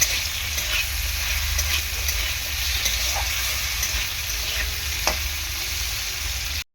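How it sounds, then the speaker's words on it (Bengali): Potatoes frying in a pan give a steady, close sizzle with a constant hiss, broken by occasional scrapes and knocks of stirring, and no voices. "এই আলুটা একটু ভেজে নেব।"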